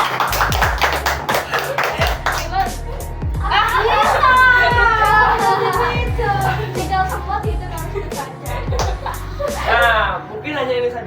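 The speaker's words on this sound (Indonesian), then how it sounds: "Nah, tepuk tangan dulu." Scattered clapping from a small audience at an Indonesian classroom presentation on reducing plastic use, mixed with steady taps and children's voices chattering and calling out throughout.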